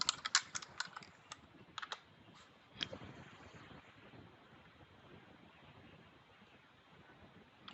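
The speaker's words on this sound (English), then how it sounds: "I can type back to the end user." Quick keystrokes on a computer keyboard, a rapid cluster of close clicks at the start, then sparser taps fading into quiet room noise.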